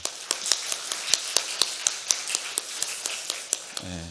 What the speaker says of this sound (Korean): 우리 수고하는 모든 리더들을 위해서 박수로 격려 한번 하겠습니다